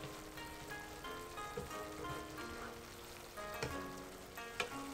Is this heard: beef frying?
yes